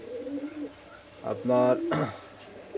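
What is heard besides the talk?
Pakistani high flyer teddy pigeons cooing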